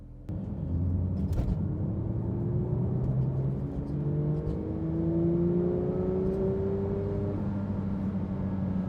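Inside a Manthey Racing Porsche 911 GT3 driven gently on the road, the engine hums and rises through a series of smooth gear-by-gear pulls, a steady close cabin drone with a faint beep early on and no talk.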